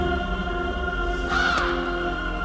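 A single crow gives a harsh caw, loud and close, over a steady low drone of background music.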